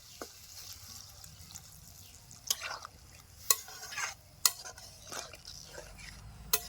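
Water is poured over drumstick stems cooking in butter in a pan, a faint liquid splash and bubbling broken by a few sharp utensil clicks against the pan.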